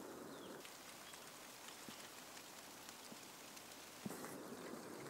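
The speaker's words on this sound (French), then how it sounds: "Il commence à pleuvoir." Light rain beginning to fall in the Jura during the last week of January, a steady soft patter with a few sharper drops landing close by and no talking.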